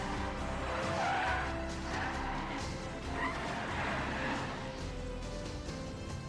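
Race cars roar past with tires skidding and squealing under a dense, steady wash of engine noise and music-like sound, heard at a muted level throughout a movie trailer.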